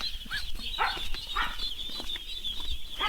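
Ducks on a farm in Magsaysay, Davao del Sur, chatter and quack in a busy flock with flapping and scuffling, moderately close, with a steady hiss of background noise.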